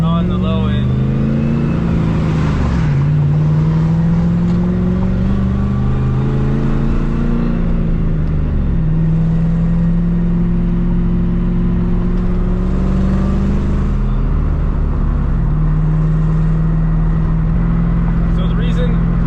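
A Nissan 300ZX Z32 with an LS engine swap and a low-lift cam accelerates with a deep, loud engine note rising and dipping through gear changes, close up and continuous, with the clutch slipped a little at low revs.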